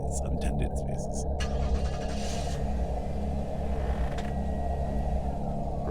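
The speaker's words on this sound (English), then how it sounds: "Roger hears a car start up right outside." A car engine rumbles low and steady just outside a house in a video game, with a continuous idling drone and faint clicks and scrapes over it.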